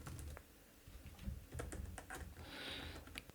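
Computer keyboard arrow keys being pressed while moving a point in a coding environment, a run of light, irregular clicks and taps, fairly close, with no talking.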